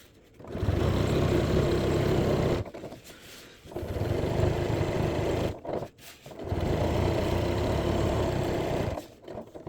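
A sewing machine basting the sides of a beach bag, its motor whirring in three sustained close bursts separated by short pauses, with no voices.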